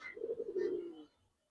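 A male pigeon, likely one of a pair of Giribaz or coloring pigeons at a pigeon market, gives one soft, close, low rolling coo lasting about a second, then falls quiet.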